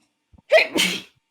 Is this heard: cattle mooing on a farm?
no